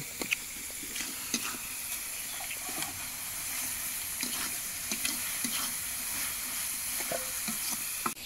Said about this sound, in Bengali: আমরা এখন দিয়ে দিচ্ছি মাছের ভুটি